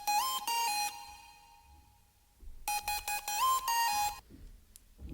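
A thin, piercing synth line in a beat plays a quick gliding phrase, pauses, then repeats it, bright and screechy with no voices.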